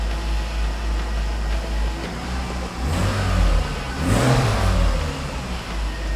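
Inside a moving 1993 Mercedes-Benz 300 CE, the fuel-injected engine hums smoothly under road noise, rising twice as it revs with acceleration, steady and close.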